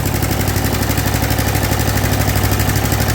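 A Snapper rear-engine riding mower's small engine runs steadily with an added muffler fitted, a close, continuous, fairly subdued putter with a fast even pulse throughout.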